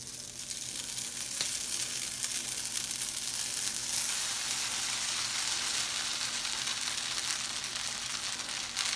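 Boiled noodles and vegetables sizzle and fry steadily in a pan as they are mixed, a continuous close crackle with faint stirring scrapes and no talking.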